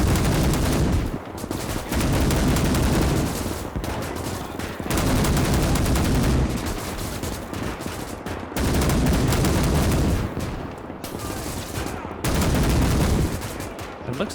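Dense, loud bursts of machine-gun fire crackle in the Winds of Iron 1920+ mod as Polish and Soviet mechs battle infantry, coming in sustained volleys with brief lulls between them.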